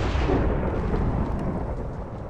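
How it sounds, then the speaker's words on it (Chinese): Thunder in the Minecraft game, a dense, steady rumbling roar that fills the whole clip at close range and fades slightly toward the end. "他打雷了"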